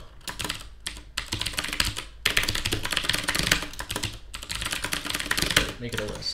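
Fast typing on a computer keyboard in dense, continuous bursts of close clicking with brief pauses, and a voice is faintly audible at times beneath it.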